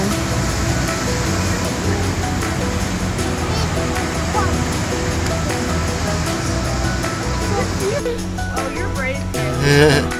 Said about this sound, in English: Yeah, the waves are getting big